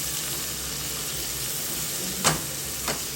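Capsicum and crumbled fried chicken sizzle in a pan while being stirred, giving a constant frying hiss close up, with two brief scraping clacks of the spatula near the end and no voice.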